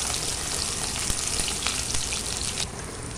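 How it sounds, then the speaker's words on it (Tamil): Chopped garlic and small onions sizzle steadily in a pan for a Tamil tamarind curry, a dense continuous crackling fry close up with a few stirring clicks and no voices. "பூண்டு வெங்காயம் நல்லா வதங்கட்டும்."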